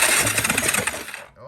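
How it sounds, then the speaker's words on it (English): The engine of a cheap $200 ATV cranks on its starter in a close, rapid whirring churn for about a second before cutting off abruptly. "Let's see if anything happens when we run this to the starter."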